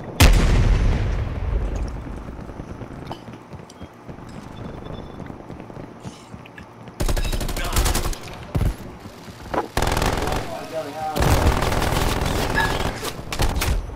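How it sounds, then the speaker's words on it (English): Rapid bursts of automated sentry turret gunfire in a Call of Duty match, loud and close, coming in sustained volleys with short gaps and mixed with other battlefield shots and explosions. "Multiple enemy sentry turrets active."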